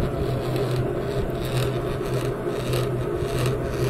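A manual honey extractor converted to a motor drive, the EPM-222, spins with a steady low hum overlaid by continuous rubbing, rasping friction, unchanging and close, with no talk.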